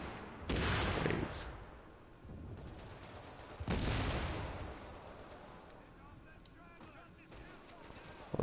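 Enemy gunfire in The Division on hard mode, with two heavy bursts of shots and explosions standing out over a constant rumble of combat.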